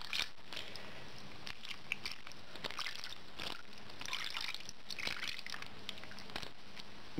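Water poured into a roasting pan already holding wine around a pork shoulder, a steady soft trickle and slosh throughout, close and fairly quiet, with no talking.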